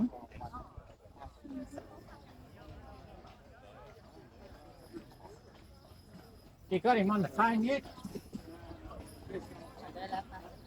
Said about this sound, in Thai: เอ้ยรถม้ามาแล้วนั่น